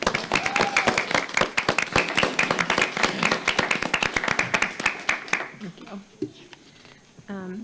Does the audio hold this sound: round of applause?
yes